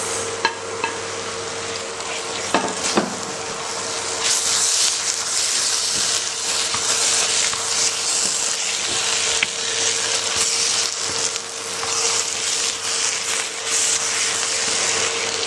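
Mutton pieces already fried sizzle and hiss steadily in a hot pan as they are stirred together with the masala, a continuous close frying noise with occasional scraping, and no talking.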